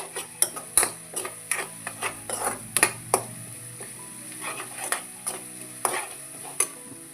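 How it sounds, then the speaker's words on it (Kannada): Turmeric and garam masala being stirred into a North Karnataka udara junaka mixture, with a series of close, sharp scrapes and knocks of a spoon against the pan over a faint sizzle and no talking. "ಚೆನ್ನಾಗಿ ಮಿಕ್ಸ್ ಮಾಡ್ಕೊರಿ."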